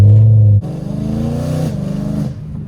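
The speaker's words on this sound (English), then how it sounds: "Obviously you're driving an M3, a V8 coupe. It sounds awesome." A BMW E92 M3 V8 coupe with cat deletes and a MagnaFlow axle-back exhaust idles with a deep burble, then revs sharply, climbing for a couple of seconds before dropping back. It is loud, close and alone.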